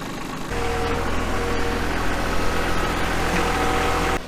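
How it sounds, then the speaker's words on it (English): A T6 tractor engine runs steadily at close range, a low, even idle-like drone that starts after a brief quiet moment and holds for several seconds, with no talk over it. "You ever seen such a big guy on a little tractor?"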